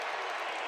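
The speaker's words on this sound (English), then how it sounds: "They stand and clap until the first field goal of each half." Syracuse Orange basketball fans clap together in the arena at a home game against NC State, a dense, steady wash of crowd applause heard in one brief burst.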